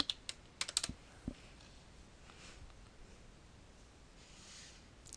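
Fingers typing on a computer keyboard, a short cluster of quick clicky keystrokes at the start, then a single tap and near silence, close and faint.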